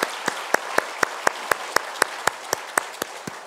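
A church congregation claps together to welcome visiting members during a Sunday service, sharp claps evenly spaced in a steady rhythm.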